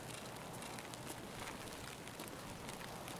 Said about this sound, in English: I'm hoping this rain masks our sound a little bit.